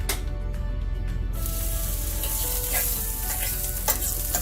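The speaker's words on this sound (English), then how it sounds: "I'm going to add some butter to our pan that's heating on the stove" Butter in a hot pan on the stove for BBQ potato chip Havarti cheeseburgers: a loud sizzle surges up about a second in, then holds as a dense, close, crackling hiss.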